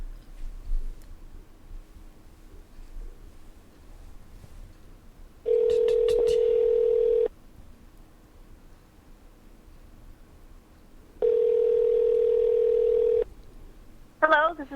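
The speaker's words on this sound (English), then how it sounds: "Let's call Julie." A telephone call placed to a radio show caller: two long steady ringback tones separated by a pause, then a brief burst of higher tones at the end, loud and clear over faint background hiss.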